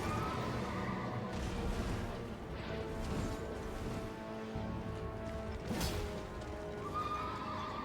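Horse neighing and whinnying with clip-clopping hooves and crashing combat sounds in the Elden Ring video game, loud and continuous with no talk.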